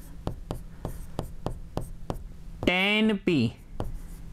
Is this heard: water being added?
no